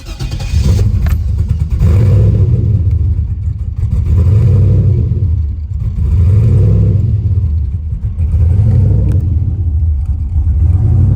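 The turbo LS engine of a 1993 Ford Mustang Foxbody rumbles loudly up close, a deep throaty idle that swells and dips in repeated slow waves after an initial start.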